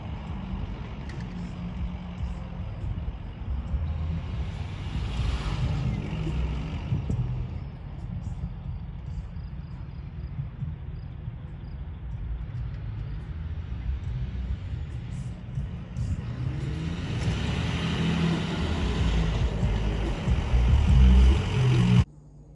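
A pickup truck approaches and pulls up, its engine rumbling steadily for the whole stretch and rising louder near the end before cutting off, with no talk over it.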